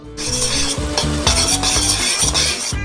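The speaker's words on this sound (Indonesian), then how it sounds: "Dan aduk." Loud, steady sizzling as thick caramel is stirred in a pot, with rhythmic scraping strokes repeating about once a second.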